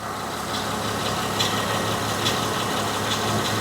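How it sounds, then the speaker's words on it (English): A 2007 Honda Odyssey engine idles steadily with the AC compressor engaged, a constant close mechanical hum and whir with faint rhythmic ticking and no voices. "If I plug this in, it should turn on the compressor, and it did."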